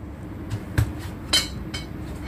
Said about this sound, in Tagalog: So ngayon guys ay hinihiwa ko na ang ating watermelon.